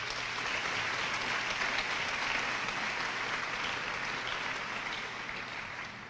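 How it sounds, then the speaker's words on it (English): A crowd at an 8th grade graduation claps steadily in sustained applause, a dense even patter that holds for several seconds before easing slightly at the end. "Can we give them a big round of applause, please?"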